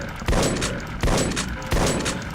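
Shotgun blasts in the first-person shooter E.Y.E. Divine Cybermancy: three heavy booming shots at an even, roughly two-thirds-second rhythm, each with a short ringing tail.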